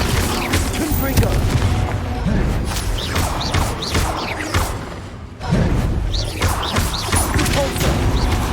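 Confringo fire spells burst repeatedly in Hogwarts Legacy combat, a dense, loud barrage of booms, crashes and whooshes with brief lulls, mixed with other spell effects.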